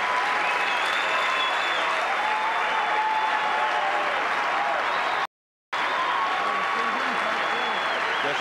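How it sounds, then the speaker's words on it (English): Sustained applause from a golf gallery at the 1991 PGA Championship after John Daly's approach shot, a thick, loud, continuous roar of clapping and crowd noise that fills the clip, with a very short dropout and commentary voices over it. "And now listen, the applause won't stop."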